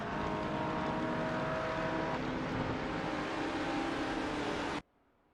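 Vintage supercars race in a video game, a steady loud engine drone that holds for almost five seconds and then cuts off abruptly into silence.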